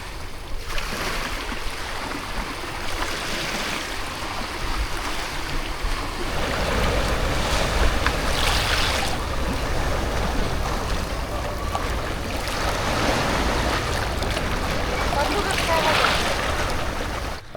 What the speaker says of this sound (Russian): Просто послушаем шум моря.